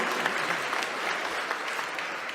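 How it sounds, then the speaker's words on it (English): Audience at a bill-signing event clapping steadily for a couple of seconds, a dense even patter of many hands with no talk over it. "You can clap for energy we don't use."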